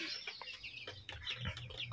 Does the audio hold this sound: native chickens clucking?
yes